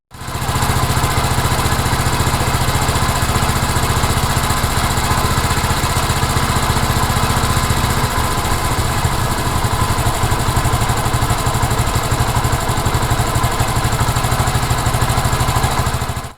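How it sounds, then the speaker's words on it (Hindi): A Honda CD70 motorcycle engine idles close and loud after a carburetor idle mixture adjustment, a continuous steady putter with a slight change in tone partway through. "इससे इंजन आइडल स्पीड 1500 आरपीएम के आसपास हो जाएगी।"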